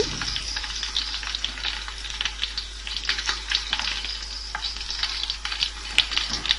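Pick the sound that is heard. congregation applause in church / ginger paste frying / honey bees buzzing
ginger paste frying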